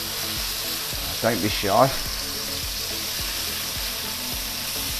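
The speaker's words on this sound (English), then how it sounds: "You've got to hear that pan sound when they go in." Beef cheeks searing in a red-hot pan, a loud continuous sizzle with a soft repeating tick underneath, briefly overlaid by a short spoken phrase midway.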